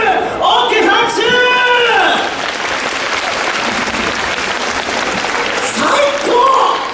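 Audience applause at a Universal Studios Japan show after a group jump and wave, a dense, loud burst of clapping with cheering voices over it, easing slightly in the middle and swelling again at the end.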